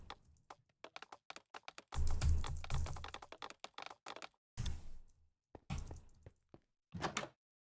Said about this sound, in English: when I'm typing, I can hear this little clicking sound